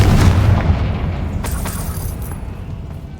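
A Confringo fire spell blast in the Hogwarts Legacy video game: one loud low boom at the start that rumbles and fades over a few seconds, with faint crackling debris after it and no voices.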